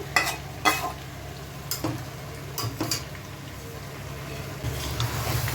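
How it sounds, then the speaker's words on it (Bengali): Chicken, potato and pointed gourd being stirred and fried in spices in a pan, with a steady sizzle and repeated scraping strokes of a spoon close by, no talking. "আবার একটু ভালো করে নাড়িয়ে দিচ্ছি যাতে সব সবজি মাংস সব জায়গায় একসাথে ভালো করে মশলাটা মিক্স হয়ে যায়"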